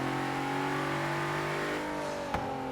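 Infiniti Q50 Eau Rouge with a GT-R engine revving, a loud steady engine note with pitch slowly shifting and a sharp blip near the end, close by.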